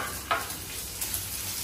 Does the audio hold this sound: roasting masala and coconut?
yes